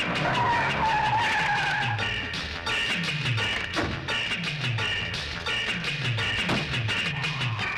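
A car skids and squeals its tyres as it speeds off in a 1990 Hindi film scene, the screeching sweeps repeating in waves under a steady engine roar, loud and close throughout.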